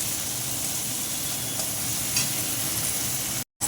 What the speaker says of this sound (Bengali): ভালো করে কষে নেব আমি